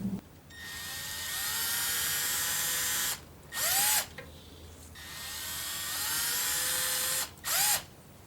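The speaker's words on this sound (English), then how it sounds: "I may as well drill the holes for the screws." A power drill whines steadily for a few seconds, stops, then two short revving bursts follow; the pattern repeats twice, close and loud, drilling screw holes in a nylon-string acoustic-electric guitar.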